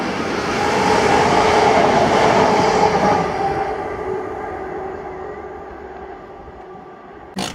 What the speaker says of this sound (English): a really rough shot of 2J51, the 1727 ScotRail service to Glasgow Queen Street from Edinburgh